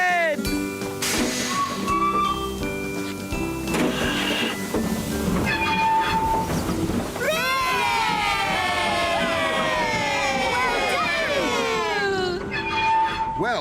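A departing steam train in a Postman Pat cartoon whistles and chuffs amid bright, swirling music and a cheering crowd, the sounds dense and continuous throughout.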